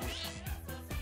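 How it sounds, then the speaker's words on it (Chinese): A cat meows twice in a recording played through speakers, two short separate calls standing clearly against a steady background hum. "猫在叫， 喵，喵了2次"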